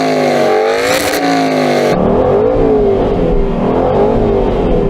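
An Aston Martin 4.7 V8 engine revs loudly and close by. It rises in a few quick blips, then holds a steady, rumbling, throaty note with no talking over it.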